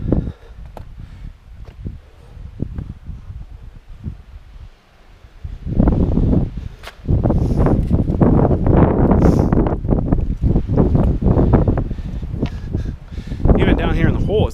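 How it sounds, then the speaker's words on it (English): Wind gusts roar down into a cave entrance hole with snow still on the floor, rumbling and buffeting the microphone in loud, sustained bursts over quieter stretches. "Even down here in the hole, it's windy."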